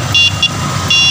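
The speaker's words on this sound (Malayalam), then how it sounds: "ഓ ഹോൺ ഉണ്ട് കേട്ടാ." Electronic horn on a bicycle beeps in three short bursts, loud and close, with a brief pause between each.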